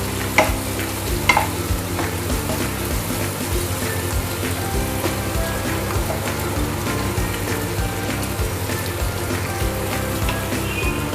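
Raw banana slices fry with ginger and garlic in a pan, giving a steady close sizzle with occasional scraping stirs and clinks of a spoon, without any speech.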